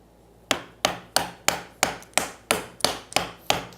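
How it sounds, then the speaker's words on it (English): Chisel struck by a mallet while cutting wood for apron arches, giving ten sharp, evenly spaced knocks about a third of a second apart, close and clear with no speech. "chisel to the line."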